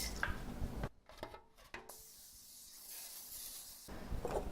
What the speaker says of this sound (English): I'm going to spray the pans before I forget.